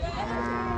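Cattle at an Indian livestock show moo in a single sustained, loud, close bellow that fills the whole moment without any talk.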